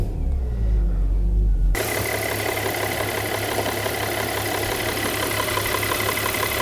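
A 25-year-old BMW E46 with an inline six-cylinder engine runs smoothly at a steady idle, a constant low hum heard close with no voices over it.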